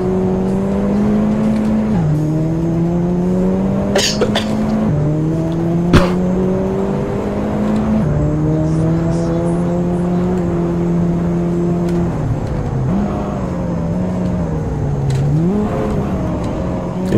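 Race car engine in Assetto Corsa revving up through gears, each climb ending in a shift drop, repeated in a steady loud cycle with a few sharp clicks over the top.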